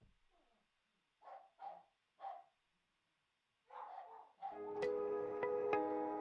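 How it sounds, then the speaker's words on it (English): Dogs in a home bark, starting with three short separate barks and then a burst of overlapping barks, before loud music cuts in and covers the end. "They'll stop barking in a second."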